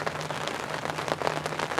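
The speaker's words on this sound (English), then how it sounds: "The rain has gotten heavier" Heavy rain falling at a river during a fishing trip, a dense close patter of drops on a surface with a low steady hum beneath.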